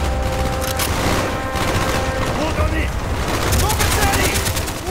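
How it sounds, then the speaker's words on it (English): Rapid bursts of machine gun fire fill a Call of Duty: Black Ops battle, with a steady dense clatter of shots and booms running throughout, loud and continuous, with shouted voices in the mix. "Got an MG in the tower!"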